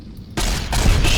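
Gunfire from a weapon in the video game Tech Scavenger's Journey, loud and continuous after a brief quiet start, a dense rattling burst of shots filling the short stretch.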